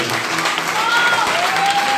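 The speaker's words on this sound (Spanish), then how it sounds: "Si eres aquí, dale un aplauso como el Señor" Congregation in a Spanish-language church service bursting into sustained, dense applause, loud and steady throughout, with a pastor's voice and a held musical tone running underneath.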